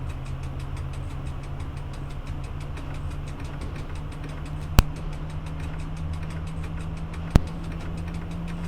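Electric locomotive starting off in the EU07 train simulator game, a steady low hum and drone with a rising tonal whine, plus two sharp isolated clicks partway through, no voices.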